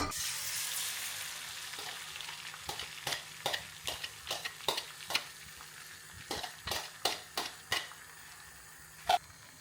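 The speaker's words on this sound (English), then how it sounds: "A tablespoon of olive oil. And we'll cook an omelette." An omelette fries in a tablespoon of olive oil in a Henckels stainless steel and ceramic non-stick pan, a steady soft sizzle punctuated by a string of quick scraping stirs and taps, close and clear.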